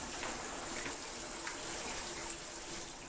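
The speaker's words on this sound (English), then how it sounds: "so you can see we have pretty good water pressure" Water gushes from a bathroom tap with strong pressure, a steady broadband rushing hiss that continues evenly throughout at moderate level, with no voices over it.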